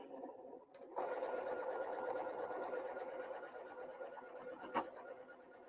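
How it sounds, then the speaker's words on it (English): A sewing machine runs in one steady, fast stitching burst while a quilt block is sewn, quiet and close, preceded by a brief click and with a small knock near the end. "I'm just going to sew that."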